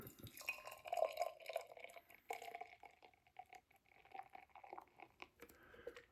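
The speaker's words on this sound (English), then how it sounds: "we're going to use proper glassware. Go get this poured" Beer flows into a proper glass, a gurgling pour with fizzing, splashing and dripping that rises and settles in bursts, heard alone without talk.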